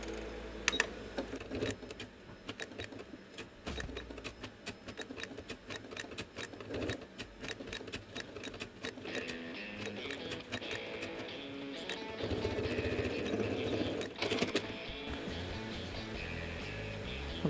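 A sewing machine stitches fabric along a curved line under the presser foot, with a steady, close, rapid mechanical clatter running throughout and a brief pause and change of pace partway through.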